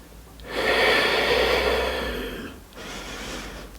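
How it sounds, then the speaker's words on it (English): A long, airy breath taken in a power yoga pose, drawn close to the ear for about two seconds, then a softer second breath after a brief dip, with no talk. "Taking a few breaths here."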